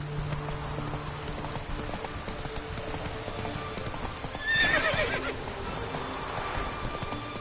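Roach the horse gallops in The Witcher 3, hooves clip-clopping steadily up close over a soft rain-like hiss, with a short neigh rising about two-thirds of the way through.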